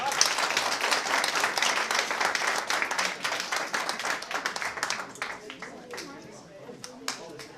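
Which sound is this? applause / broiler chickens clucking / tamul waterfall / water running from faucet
applause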